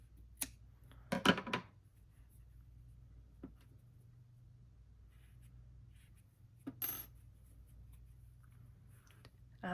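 Scissors snip through the tail of crochet yarn on a small ghost figure, giving a few sharp, close clicks near the start and one more later, with quiet room hum in between and no talking.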